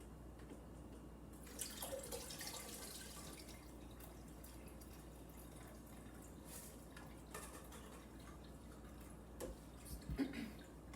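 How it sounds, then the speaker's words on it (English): Horchata mixture strains through a strainer into a jug, giving a faint, steady trickle with scattered drips and small clinks in a quiet kitchen. "And now we're going to strain our mixture."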